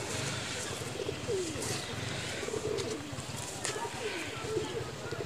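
High flyer pigeons coo softly and repeatedly at close range amid a steady busy background murmur, with faint chirps scattered through.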